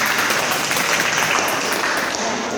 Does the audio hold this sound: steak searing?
no